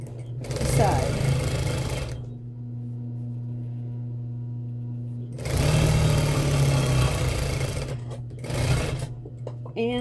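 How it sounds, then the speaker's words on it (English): Sewing machine stitching the side seams of a garment, two loud bursts of rapid mechanical running separated by a quiet pause, with a low motor hum and a voice speaking between the bursts. "Sew on down the side."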